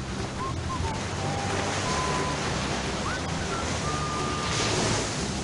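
Steady broadband surf rolls onto a beach, a continuous wash of waves with some wind noise, close and fairly loud with no talk over it.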